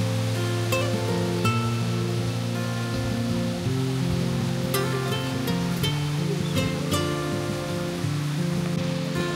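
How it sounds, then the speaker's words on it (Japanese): Sennin Otaki waterfall in a Japanese stone garden, a constant loud rush of falling water running the whole time, layered with sustained tonal music and occasional bright chimes, no talking. "仙人大滝。"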